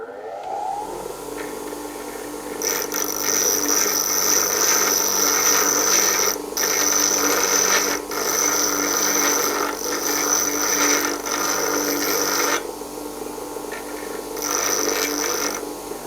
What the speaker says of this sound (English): So with my safety glasses on, let's dress the wheel up.